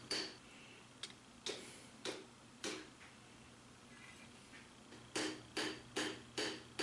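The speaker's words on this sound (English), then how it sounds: "I'm just hammering it flat, drawing it out on both sides" A hammer strikes a lawnmower blade being forged flat into a short sword, giving sharp metallic blows: a spaced series of single hits, then a quicker run of four near the end, close and crisp over a faint background hum.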